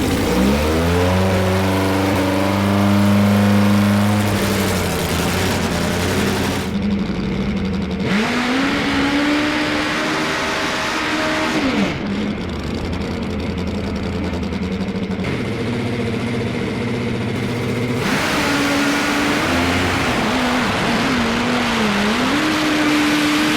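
Nitro-fuelled top fuel drag bikes at a race meeting, a loud sustained engine roar that rises and falls in pitch, with revving surges and brief cutoffs between them, and no talk.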